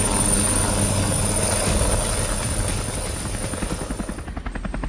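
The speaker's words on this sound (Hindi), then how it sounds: "तो एक बार फिर से हम हेलीकॉप्टर में सवार हैं" A helicopter roars steadily and loudly from close by, with a dense rotor drone and rhythmic blade chop that grows more pronounced toward the end, and no one speaks.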